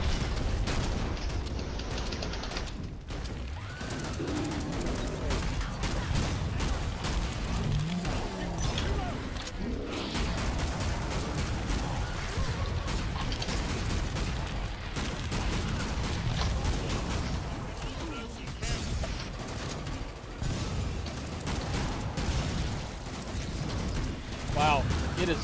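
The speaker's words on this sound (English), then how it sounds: "A lot of explosions and fire happening." Constant explosions, bursts and gunfire in a multiplayer video game, dense and loud throughout with players talking over the chaotic battle.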